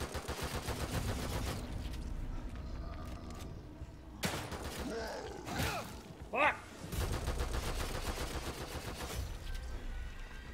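Gunfire in the horror game The Evil Within 2, a rapid, sustained machine-gun-like rattle broken by a few sharper bursts and mechanical clanks midway, steady and fairly loud, with a voice briefly heard.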